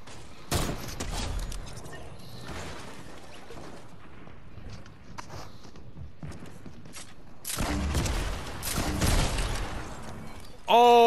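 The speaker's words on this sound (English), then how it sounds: "We're gonna try to do the damage opponents with the heavy sniper rifle." Heavy sniper rifle fire in an online shooter game, with loud sharp shot bursts and clattering mechanical reload and handling noises scattered through the stretch, plus a final loud burst at the end.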